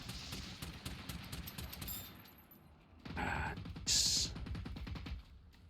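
Shock ammo fire in the robot-combat game Generation Zero rattles out as a series of rapid, sharp shots. Metallic crackles and a bright electric zap follow, all at moderate volume.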